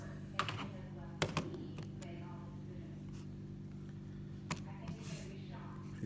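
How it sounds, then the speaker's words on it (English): Quiet plastic key presses tapped out on a calculator, a handful of light clicks spaced irregularly over a steady low hum, with a voice talking in the background. "I'm going to type this in the calculator"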